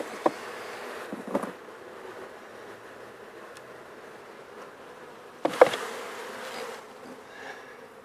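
Honeybees buzz as they are shaken off hive frames while a grafting starter colony is being set up. A soft, steady hum runs throughout, with a few brief thumps and knocks from the frames, the loudest near the end.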